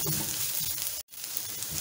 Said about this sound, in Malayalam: ഇതെല്ലാം കൂടെ ചേർത്ത് നന്നായി ഒന്ന് വഴറ്റി മൂപ്പിച്ചെടുക്കാം